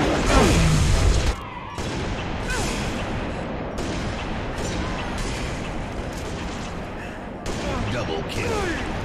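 Gunfire and explosions rage in the Halo video game, a dense, loud barrage of shots and booms that barely lets up, with one brief drop in intensity partway through.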